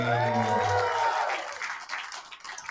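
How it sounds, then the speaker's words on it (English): A comedy club audience breaks into applause to welcome a comedian, with steady clapping that starts under a fading musical sting and thins out toward the end. "put your hands together for Jeremy Danley"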